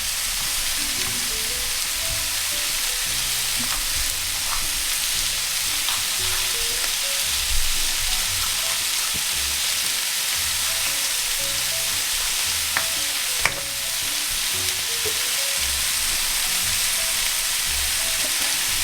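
Half a red pepper sizzling in a hot pan as part of a curried duck dish, a steady close frying hiss with occasional soft stirring clicks and no talking.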